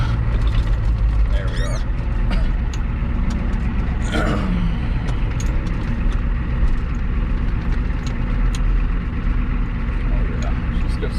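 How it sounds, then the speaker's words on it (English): A 1987 Ford F350 pickup with a 6.9 IDI diesel engine rumbles loud and close with a steady, coarse idle, a brief whine near the start, and someone speaking briefly over it. "Oh, I'm gonna start her."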